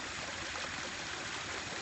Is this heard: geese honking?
no